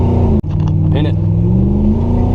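A Camaro engine accelerating hard with wheel spin on a street, steady loud droning engine tone heard from inside the car, with a brief dropout and some speech over it.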